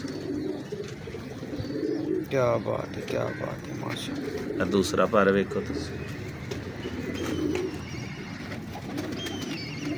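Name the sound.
pigeons cooing at a pigeon show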